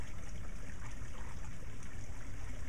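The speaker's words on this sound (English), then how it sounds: "I think you can probably hear that water." Water runs in a stream through a pasture with a steady, broad rushing and trickling wash, continuous and close, no voices.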